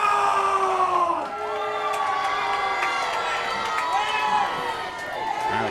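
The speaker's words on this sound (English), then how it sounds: "And the crowd very much behind the champion, Alexander Roth, at this point." Wrestling crowd at a UKPW title match cheering for the champion, a loud continuous roar with whoops and shouts, dipping briefly and surging again.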